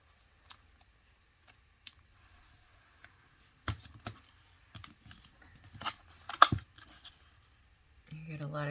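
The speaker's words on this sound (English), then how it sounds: "I'll do a quick flip through" A Simple Stories Bunnies & Blooms 6x8 pad of double-sided scrapbook paper is flipped through quickly, giving soft rustles and scattered crisp page flicks and clicks in a quiet room, getting busier toward the end.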